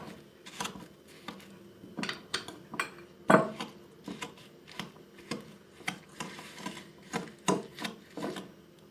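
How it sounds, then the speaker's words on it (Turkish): A spoon or whisk stirring a cracked egg into chocolate oat cookie dough in a bowl, giving a steady run of close, rhythmic scraping strokes against the bowl, with no talking. "bir adet yumurtamızı içine kırıp bunu karıştıracağız arkadaşlar. Karıştırmaya başladık"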